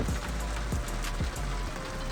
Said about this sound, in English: We got some rain going on.